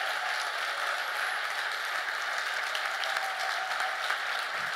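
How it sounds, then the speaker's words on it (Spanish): A church congregation applauds together at a Spanish-language service, a dense, steady wash of many hands clapping that carries on without a break. "denle un aplauso al Señor."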